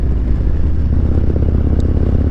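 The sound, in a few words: motorcycle exhaust rumble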